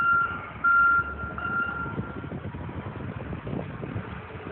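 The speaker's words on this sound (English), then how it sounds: "the utility trucks are doing their best to try to clean it up" Utility trucks working at night to clear a huge tree snapped by strong winds in front of a driveway, with a steady reversing beep and low diesel engine rumble close by, no talking.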